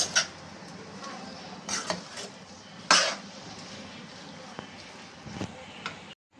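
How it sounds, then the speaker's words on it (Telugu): A ladle stirs curry in a cooking pot, giving sporadic metallic clinks and scrapes against the pot at close range, separated by quieter stretches. "నేను గరిటతో కలుపుతున్నాను"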